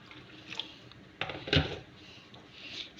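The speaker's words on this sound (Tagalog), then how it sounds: "Lagyan natin ng mainit na tubig" Hot water poured into a cooking pot of okra and potato stew, a short splashing gush rising and fading within a couple of seconds in a quiet kitchen.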